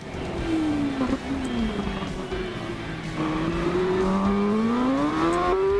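A Kawasaki ZX10R engine in a racing video game revs up and down in smooth rising and falling sweeps, loud and continuous, with tire squeal mixed in.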